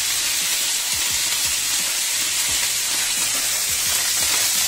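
A steak is laid into a very hot frying pan and sears with a loud, steady sizzle and hiss close by, broken by a few faint clicks.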